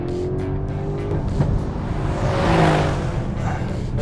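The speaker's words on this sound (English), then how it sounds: "I just want to rev this out" Alfa Romeo Stelvio Quadrifoglio sports SUV engine revs out in one loud, sustained rise and fall, heard up close with no talking.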